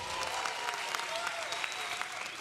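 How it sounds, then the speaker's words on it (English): A comedy show audience gives a sustained round of applause on cue, dense clapping from many hands filling the room steadily from start to finish. "round of applause"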